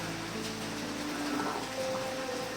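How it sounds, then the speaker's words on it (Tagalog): Heavy rain hisses steadily outdoors at a rural home, a constant broadband wash with faint tonal sounds drifting through. "Sobrang lakas ng ulan dito."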